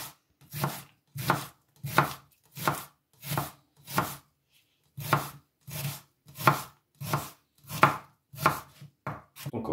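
A knife slices an onion into strips on a cutting board in a slow, even series of about fifteen crisp chops with a short pause midway, close and clear, with no talking.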